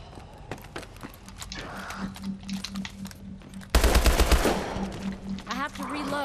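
HBR rifle fire in Call of Duty: Advanced Warfare Exo Zombies, rapid automatic bursts crackling through the clip and swelling into a loud, dense volley partway through, with a voice talking over the game audio.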